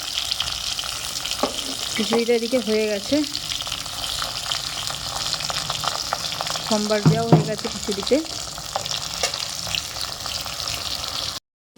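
Pointed gourd (potol) slices sizzle and crackle steadily as they fry in a pan, with someone speaking briefly over the frying twice.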